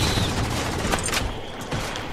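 Incoming gunfire striking the player in Halo 4 big team slayer on the Exile map, a dense rapid crackle of shots and impacts running continuously over a short burst, fairly loud and close.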